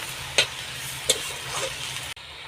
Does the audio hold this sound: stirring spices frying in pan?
yes